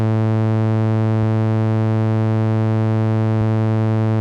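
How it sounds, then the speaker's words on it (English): Bitwig Polysynth drone held on A1, a steady buzzy tone with rich harmonics, broken by two sharp clicks where the loop restarts, about two seconds apart. "each time the clip starts, also the sound will reset and we'll get this annoying click"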